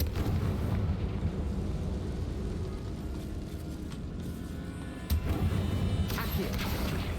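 A Confringo spell explosion bursts in Hogwarts Legacy over a constant rumbling game background, with sharper blasts standing out near the end.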